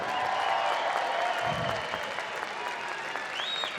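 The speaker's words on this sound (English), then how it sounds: "let's have a round of applause for these fighters." A crowd at a super heavyweight fighting bout applauds the fighters in a steady roar of clapping and noise, with a brief low thump partway through.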